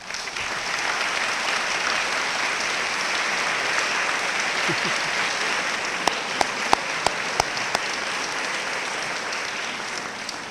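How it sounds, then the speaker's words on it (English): A college convocation audience applauds its three union presidents, a dense, sustained wash of clapping from a large crowd that holds steady throughout, with a few sharper claps standing out near the end. "our three union presidents, please stand for a round of applause"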